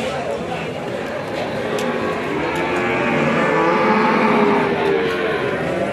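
Cattle, including a rare Belgian Blue cow, moo among a noisy crowd at a busy livestock market in Yogyakarta, with people talking throughout.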